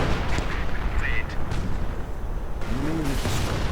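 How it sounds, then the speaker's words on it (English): Artillery fire in a real-time strategy game, distant booming shots and blasts scattered across a busy battle soundscape, with a brief warbling tone near the end and voices in the mix. "Artillery is pretty much hitting nothing."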